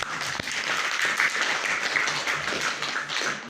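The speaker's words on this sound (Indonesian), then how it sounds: "Kita kasih tepuk tangan dulu ya." Applause from a seminar audience at a university lecturer certification session, a steady wash of many hands clapping at moderate level for the full few seconds with no break.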